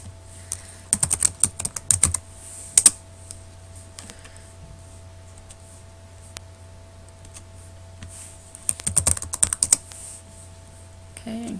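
Typing on a computer keyboard while chatting in a Google document: two bursts of quick, irregular key clicks with a quiet stretch between, close and fairly clear over a low steady hum.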